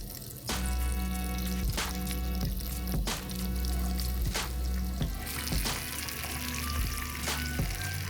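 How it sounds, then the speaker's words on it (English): Chicken pieces fry in hot oil with a loud, steady, close sizzle, crackling with faint pops throughout and no talking. "I'm going to take one piece of chicken and put it in the oil."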